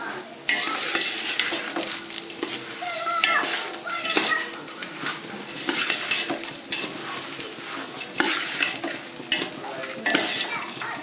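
Four bay leaves fry in hot ghee for pulao, a busy sizzle broken by frequent scraping and stirring of a utensil against the pot, close and continuous.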